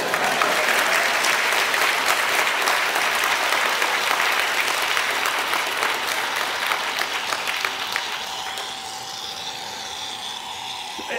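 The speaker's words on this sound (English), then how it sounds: "This doesn't deserve a round of applause?" Loud, full audience applause in a lecture hall during a gelation cooking demonstration, holding strong and then thinning toward the end as a faint steady hum emerges.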